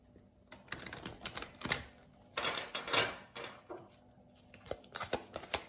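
Tarot cards being shuffled and handled, a close series of irregular papery flicks and riffling bursts with brief pauses, no talk over them.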